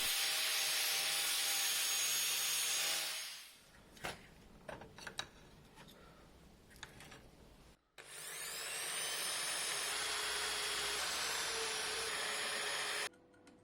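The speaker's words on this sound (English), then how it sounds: "This is my last cutting disc." A cutting disc grinds steel bodywork on a Triumph TR7 under restoration, a loud continuous abrasive whine for several seconds, then scattered scrapes and knocks, then a second long sustained grinding run that stops abruptly.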